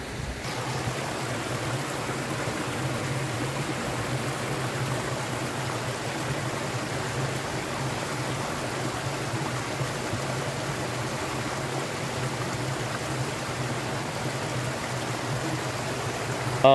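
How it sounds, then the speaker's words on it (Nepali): Water overflowing at a spring source pipe pours and rushes continuously, a loud, steady, close roar with no pauses and no voices. "पानी अझै यो पाइपमा गएको भन्दा धेरै पानी खेर गएर गइरहेको छ"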